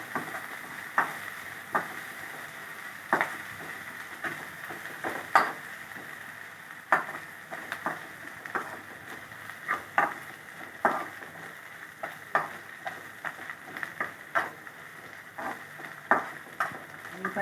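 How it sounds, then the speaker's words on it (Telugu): Ginger garlic paste fries in a pan with a continuous low sizzle, and a spoon scrapes and taps against the metal in a loose, repeated rhythm the whole way through. "పచ్చివాసన పోయేదాకా వేయించుకొని"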